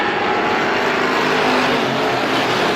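A continuous loud roar of heat race cars running at speed on a track in a 2017 Halloween Howler event, a dense blended engine drone with wind-like hiss and no talking.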